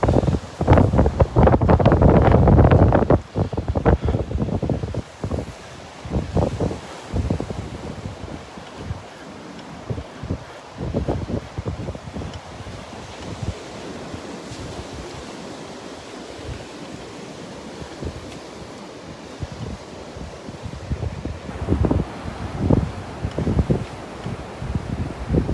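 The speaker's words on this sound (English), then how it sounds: "The wind's gusting between 20 and 30 miles an hour here." Strong wind gusts between 20 and 30 miles an hour across Vanderbilt Beach, roaring and buffeting the microphone in loud bursts, heaviest at the start, then easing to intermittent blasts over a steady background rush.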